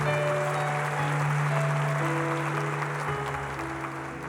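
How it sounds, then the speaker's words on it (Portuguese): Congregation applauding during a Catholic Mass homily, a broad steady wash of clapping heard from a distance in a reverberant church, with a sustained organ-like tone beneath it, fading slightly toward the end. "Então vamos aplaudir o Senhor,"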